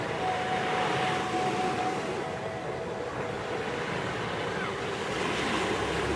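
Sea waves washing onto a shore, a steady broad rush of surf with some wind buffeting the microphone, continuous and fairly loud with no speech over it.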